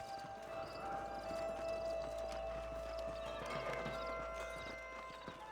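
Horses in the Red Dead Redemption video game clip-clop at a walk over wild ground, with a neigh or whinny, faint hoofbeats under a steady ambient hum.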